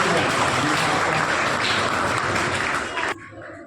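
Loud, dense applause from an audience at a school sweater-distribution event, greeting a retired higher secondary school teacher and noted speaker, sustained for about three seconds before cutting off abruptly.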